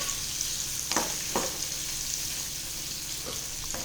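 Tindora and potatoes sizzle in hot oil with a continuous soft frying hiss, broken by a few brief stirring clinks and scrapes in the pan.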